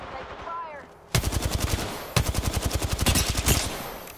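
Automatic weapon fire in the video game Apex Legends: a long rapid burst begins after a short pause and a faint chirp, stops briefly, then resumes as a second sustained, loud, evenly spaced volley.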